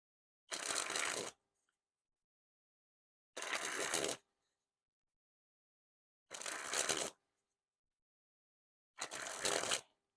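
Orbit Cardistry-Con Second Edition playing cards sprung from hand to hand, four separate crisp fluttering bursts of about a second each, spaced by silence, close and clear.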